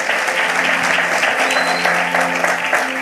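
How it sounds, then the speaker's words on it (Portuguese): A church congregation at a Brazilian Pentecostal service gives a loud, sustained round of applause for the sound technician, dense clapping continuing evenly throughout without pause. "Uma salva de palmas pela vida do nosso sonoplasta."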